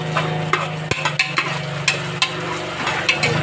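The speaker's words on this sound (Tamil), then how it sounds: "நல்லா கண்ணாடி பதம் வரையும் வதக்கிட்டு" Vegetables sautéing in hot oil in a pan for vegetable rice, with a steady low sizzle and repeated sharp scraping stirs of a spoon against the pan, close and fairly loud.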